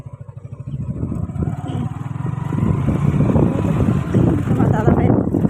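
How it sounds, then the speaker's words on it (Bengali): A motorcycle being ridden, its low engine drone pulsing steadily and growing louder, with heavy wind buffeting the microphone throughout. "তোমার দাদা ভাই বাইক চালাচ্ছে"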